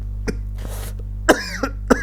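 Three short, sharp coughs spaced unevenly, close and fairly loud, over a steady low electrical hum.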